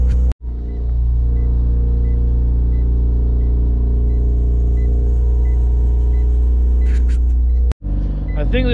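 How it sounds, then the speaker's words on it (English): A car engine held at a steady loud roar during a burnout, a constant rumbling drone that cuts out briefly near the start and again near the end. "So I gotta step on the gas for a couple seconds."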